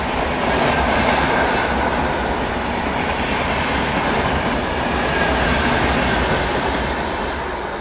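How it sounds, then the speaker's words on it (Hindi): The Tejas Rajdhani Express (August Kranti) passes close by with a loud, steady rush of wheels and carriages, continuous throughout with no voices. "क्या स्मूथ गई ना तेजस राजधानी एक्सप्रेस।"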